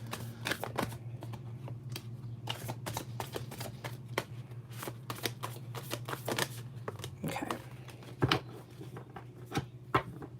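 Tarot cards are shuffled and drawn by hand: a steady run of soft, close riffling and flicking card sounds with a few sharper snaps, no voices.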